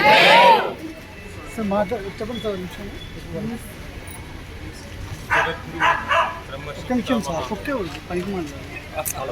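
A dog barks in short bursts amid an ahimsa vegetarian rally at Palamaner, the yelps mixed under near, continuous speech from a speaker and crowd.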